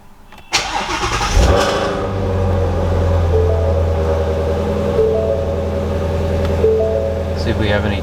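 A Shelby GT350 fitted with an E85 flex fuel kit cranks and fires up, a short whirring start followed by a loud, deep idle that settles into a steady rumble close by.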